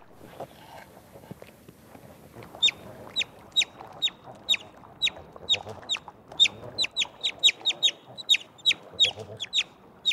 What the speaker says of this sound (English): With loud chirps, it calls for its mother.